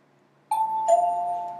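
A two-tone ding-dong doorbell chime like the one in an old Avon makeup commercial, two clear ringing notes a major third apart, the second striking shortly after the first and both sustaining, close and alone.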